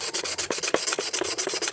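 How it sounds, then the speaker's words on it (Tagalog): Repeated rasping strokes of sandpaper rubbing back and forth, steady and close, about a dozen quick passes with no talking. "Yan, lihain lang natin ito."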